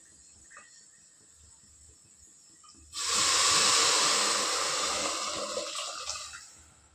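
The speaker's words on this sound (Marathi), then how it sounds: "आपल्याला जेवढं पातळ पाहिजे तेवढं पाणी टाकायचं त्याच्यात" Water pours into a cooking pot of boiled lentils with turmeric: after a quiet start, a sudden bright rushing hiss begins and continues steadily, tapering slightly toward the end.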